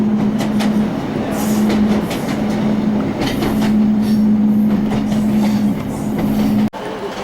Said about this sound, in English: That's the train we've just come off, Andy